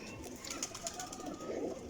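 A golden flying pigeon coos softly several times at close range, with its low murmuring calls repeating over a faint background.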